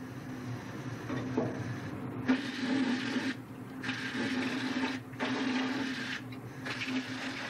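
Glaze is sprayed onto the outside of a pottery piece in bursts of hissing airflow from a spray gun, several spurts of about a second each separated by short pauses, close over a steady background hum.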